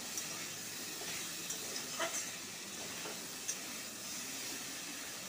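Coriander and cumin paste fries in hot oil for a vegetarian long bean and potato poppy-seed dish, a steady close sizzle with a few soft clinks of stirring.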